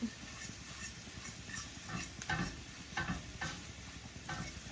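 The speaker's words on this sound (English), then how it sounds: "We're just going to melt the cheese in the middle of the pan and stir the broccoli into it" Broccoli is stirred into melting Aldi-brand Cheese Whiz in a pan, with soft repeated scraping strokes over a low, steady sizzle, close by and with no talking.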